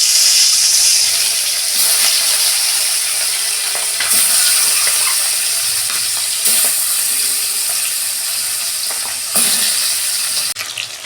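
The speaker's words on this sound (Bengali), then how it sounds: "মাছগুলো ভেজে নিচ্ছি।" Boga fish frying in hot oil in a wok, a loud close hiss and crackle that runs continuously, with several sharper bursts of spattering spaced a few seconds apart.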